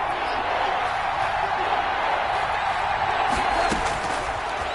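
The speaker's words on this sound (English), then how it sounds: "The crowd getting into it as we come up on a big 3rd down." Steady crowd roar in an American football video game on PS4 building before a big third down, a broad continuous wash of cheering that stays loud throughout with a brief burst near the end.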